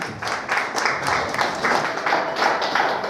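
Strong, steady applause from an audience at an OBC community talent award ceremony, dense clapping that fills the whole stretch at even loudness with a faint voice underneath.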